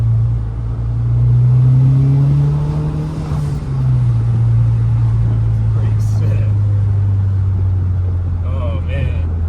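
A Mazda hatchback pulls away hard with a loud, rising engine note that dips and settles into a steady rumble. A brief burst of tire spin comes at the launch, and voices talk over it.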